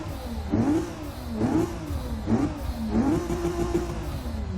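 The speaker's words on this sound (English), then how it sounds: "You can hear that big single turbo." A big single-turbo 2JZ engine in a Lexus SC300 revs repeatedly, rising and falling in several throaty pulls with a deep, steady rumble underneath, loud and close.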